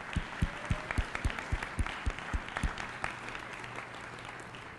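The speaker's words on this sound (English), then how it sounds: "let's give ourselves a round of applause" Parents at a school meeting give a faint round of applause, with a few distinct claps at first and then a soft, scattered patter in a large room.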